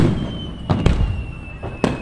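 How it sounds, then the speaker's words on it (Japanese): Fireworks at the Kamogawa fireworks festival in Japan, heard from a distance as several sharp bangs and crackles over crowd murmur and a faint high tone, with a few quick bursts spaced apart. "今回は久しぶりに鴨川の花火大会に来ました。"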